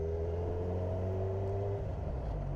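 Suzuki GSX-R motorcycle engine revving under too much throttle with the clutch held in, a close, steady low droning rumble that dips as the revs fall away.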